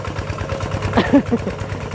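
An old ET11 walking tractor engine runs with a steady low chugging throb while working hard soil in a rice field, with voices talking over it.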